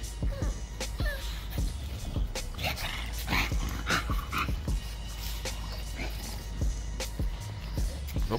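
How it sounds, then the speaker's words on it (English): A fluffy puppy growls and yips in play, with short rough bursts and scattered sharp sounds over a low steady background hum, close to the microphone. "This is a puppy, y'all."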